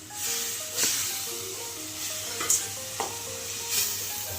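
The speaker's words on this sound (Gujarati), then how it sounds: "આપણે ગાજર ધીમે ધીમે શેકાય છે" Grated carrots slowly roasting in a pan for gajar halwa, a steady soft sizzle and hiss with a few scraping stirs of a spoon, close and continuous.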